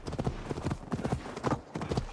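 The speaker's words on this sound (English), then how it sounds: "Damn, this horse is quick." A horse galloping in the video game Assassin's Creed Valhalla, a quick, steady rhythm of close, loud hoofbeats repeating in fast groups.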